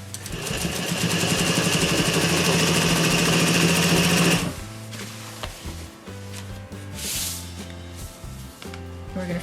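A sewing machine set to a fine stitch runs a seam along the long edge of a pillow insert, a loud fast whirring hum for about four seconds before it stops and gives way to quieter clicks and fabric handling.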